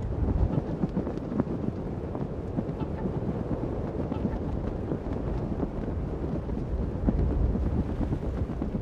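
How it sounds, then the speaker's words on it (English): Strong wind roars across an icy, cold winter landscape below the mountains, a dense continuous rush with low rumbling gusts that stays loud throughout. "To the challenge of ice and cold, add another: wind."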